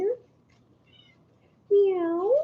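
A cat gives a brief chirp, then after a short pause lets out one clear, drawn-out meow close by.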